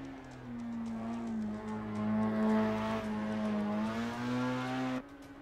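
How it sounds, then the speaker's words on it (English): Steady, droning race car engine in a street car drift build video game, holding a sustained high note under load for about five seconds before cutting off abruptly, with no talk. "This engine sounds incredible."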